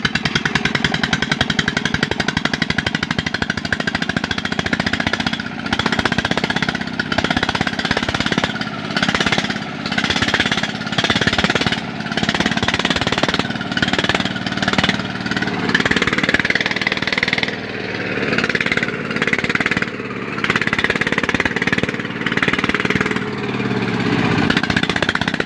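A công nông farm truck hauling a load of coffee runs its engine loud and close, a harsh, steady chugging and rattling drone that continues without pause, with no talking over it.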